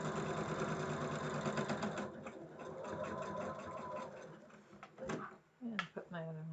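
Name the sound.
sewing machine stitching quilt block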